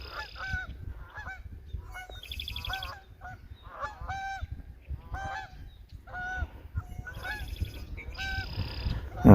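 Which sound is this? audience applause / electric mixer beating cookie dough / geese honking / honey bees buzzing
geese honking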